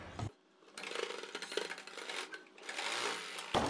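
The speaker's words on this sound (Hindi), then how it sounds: "अब हम यहाँ पर अपनी सिलाई मारकर इसको अटैच कर देंगे ताकि हमारा पैटर्न इधर उधर हिले ना" A sewing machine stitches a pattern onto a dress neckline, its rapid needle whirring in close bursts separated by short pauses, with faint handling clicks and no talk.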